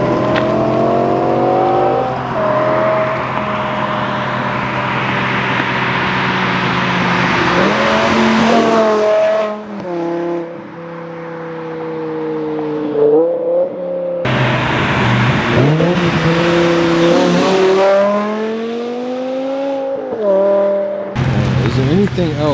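A V10 BMW M5 with its muffler deleted roars past in a loud flyby. Its engine note climbs and falls in sharp revving sweeps through several passes and stays loud throughout.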